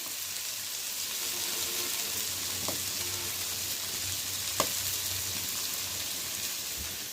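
Chili dropped into hot oil sizzles steadily while a large fish is being cooked, a continuous loud frying hiss with a couple of faint taps from the pan.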